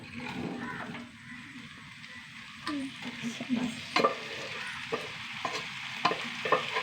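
Banana stem and horse gram stir-fried in a pan, close sizzling with repeated sharp scraping and tossing strokes, irregular rhythm, no talk.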